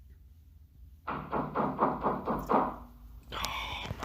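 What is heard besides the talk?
knocking on a door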